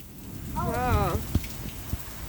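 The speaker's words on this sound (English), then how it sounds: "You can hear the rain." Heavy rain pours during Hurricane Lorena, a dense, steady hiss across the clip, while a person calls out briefly in the middle and a couple of sharp knocks sound near the end.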